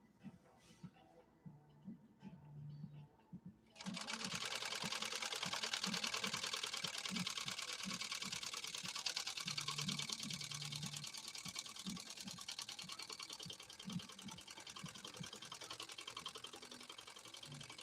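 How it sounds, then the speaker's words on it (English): Pfaff 130-6 sewing machine stitching at moderate speed, a few soft knocks then a steady continuous whirring hum with rapid mechanical ticking, close and even, with faint low voice-like sounds beneath. "And I'm sewing at a moderate speed right now."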